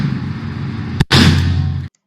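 A real gun fires a single sharp shot at close range, a loud crack followed by a brief rumbling tail that cuts off abruptly.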